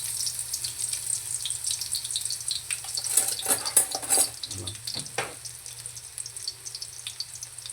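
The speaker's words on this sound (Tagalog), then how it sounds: "Lalagay na tayo ng mantika sa kawali. Yan, ilalagay na natin ang ating sibuyas." Chopped onions fry in cooking oil in a pan, giving a soft, steady sizzle with brief bursts of crackling and the scrape of stirring around the middle.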